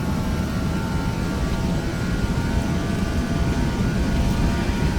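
An Airbus A321 in the Prepar3D flight simulator rolls down the runway for takeoff, its engines giving a steady, loud, unbroken roar with no talk over it.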